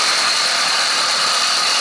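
A small gas engine mounted on a bicycle idles steadily, a loud, continuous buzzing drone heard close up with no pauses and no voices.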